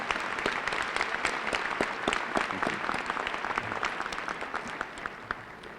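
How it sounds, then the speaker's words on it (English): Applause from a high school graduation crowd in 1998, with individual sharp hand claps standing out over a steady roar of clapping that gradually thins toward the end. "Would you please be so kind as to give Mr. Kopis a nice round of applause?"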